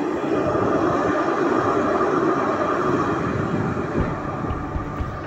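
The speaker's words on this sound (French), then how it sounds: "On dirait un RER." An RER commuter train rolls past nearby, a loud, steady rumbling roar that eases slightly toward the end.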